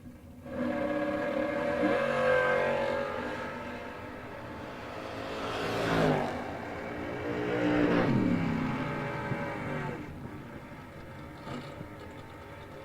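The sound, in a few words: drag racing cars launching down the strip, Chevy 2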